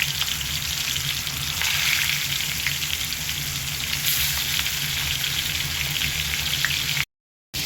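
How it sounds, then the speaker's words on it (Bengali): Fish pieces frying in hot oil in a kadai, a dense, continuous close-up sizzle and crackle with no voices, broken by a brief silent cut near the end. "কড়াইয়ে তেল গরম হয়ে গেছে, এবার আমি একটা একটা করে মাছ ভাজতে দিয়ে দিচ্ছি।"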